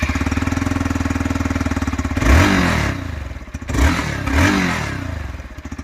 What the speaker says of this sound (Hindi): स्टॉक एग्जॉस्ट जो है उसका हम साउंड चेक करने वाले हैं।